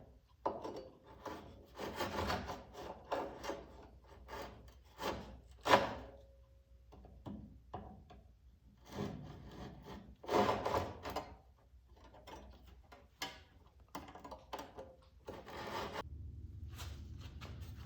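A hacksaw cuts into an old, worn handsaw missing a few teeth, quiet scraping strokes in irregular bursts with pauses between them, close and alone.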